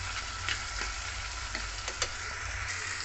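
Cabbage curry sizzles softly in a pan as it cooks down dry, with a steady low fry and a handful of light spatula scrapes and taps spread across the stretch, no talking.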